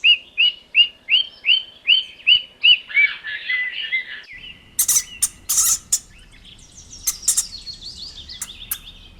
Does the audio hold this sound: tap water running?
no